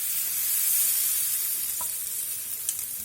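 Marinated mackerel sizzles loudly on a hot tawa over a medium flame, a dense, continuous close-up hiss with a couple of faint clinks and no voices.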